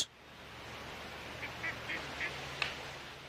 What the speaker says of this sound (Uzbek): o'rdaklarga to'la hovuz.